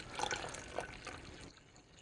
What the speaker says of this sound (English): now just pour that cold water in there.